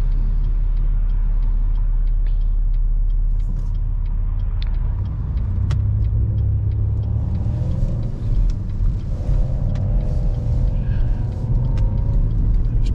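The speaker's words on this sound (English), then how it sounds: "Turning real easy, then I accelerate out." A car drives at night with steady low engine rumble and road noise, the engine note rising as it accelerates out of a gentle turn, continuous and fairly close throughout with no talking.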